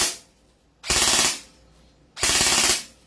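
A Trex H-Capa airsoft pistol fires on rapid-fire mode in two short, loud bursts of fast, sharp rattling shots, separated by a brief quiet pause.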